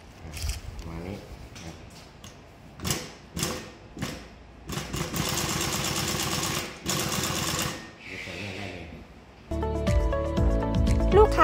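A SURE SR-10-1 hand-guided chain-stitch embroidery machine running, with short rapid stitching bursts at first and then longer steady mechanical runs, close and fairly loud, with a voice talking at times.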